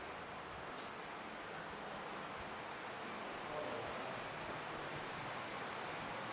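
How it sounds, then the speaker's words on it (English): Water flows and rushes steadily inside an artificial cave at a night safari park, forming a constant broadband wash that fills the space without breaks, moderately loud and even. "I can hear a lot of water"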